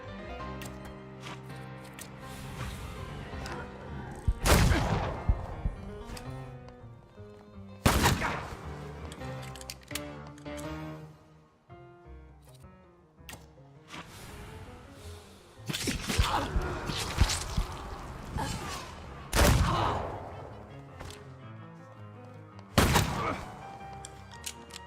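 Gunshots in the video game The Thaumaturge, with several loud isolated blasts spaced a few seconds apart over a continuous layer of game music and ambience.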